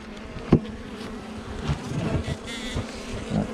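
A dense, steady buzzing of many honeybees close by at a hive in December, with a few soft knocks and rustles mixed in.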